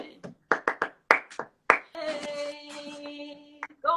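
Sharp hand claps beat out a flamenco-style rhythm, about eight crisp strikes close by, followed by a sustained sung note with a few more claps toward the end.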